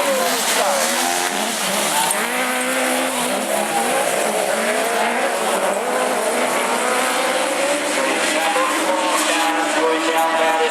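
Autograss race cars corner hard on a dirt track at a bonfire night meeting, engines revving loud and continuous with tyres scrabbling, as a commentator talks over the racing.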